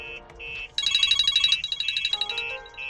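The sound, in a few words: phone ringing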